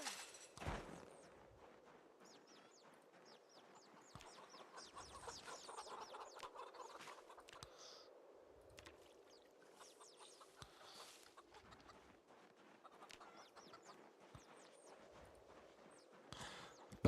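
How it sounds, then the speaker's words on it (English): A flock of about seventy chickens in the Project Zomboid video game clucks steadily throughout, a dense, faint chorus of overlapping clucks with a few sharper clicks. "About 70 chickens in here."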